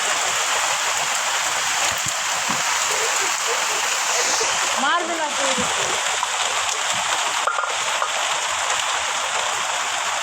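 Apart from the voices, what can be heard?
rain falling outdoors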